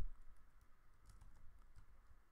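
Keys tap softly and steadily on a computer keyboard, a short run of faint, even keystrokes up close.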